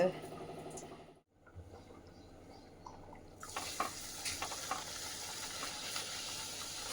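Puri dropped into hot oil for a home breakfast, a steady broadband sizzle that swells loudly after a quiet start and runs on with small crackles and pan clatter.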